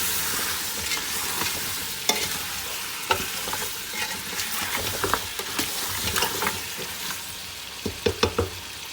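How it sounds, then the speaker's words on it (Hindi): Mutton paya frying with spices in a pot, a steady sizzle under repeated scraping stirs and clinks of a spoon, close and continuous. "इसको मज़ीद 5-7 मिनट के लिए भूनेंगे अच्छे से"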